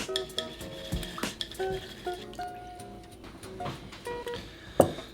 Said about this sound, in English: I just like to agitate it, get the starch kind of loosened up